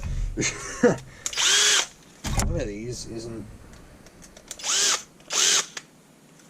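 A cordless drill whirs in several short bursts, near and loud, while someone talks between the runs.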